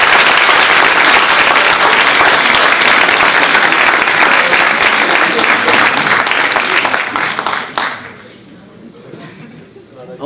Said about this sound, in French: je voudrais que vous applaudissiez très fort Monsieur Rémi Le Cerf.